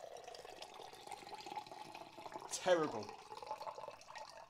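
Liquid poured through a Hawthorne cocktail strainer gives a brief splashing, trickling burst in the middle, with people talking around it.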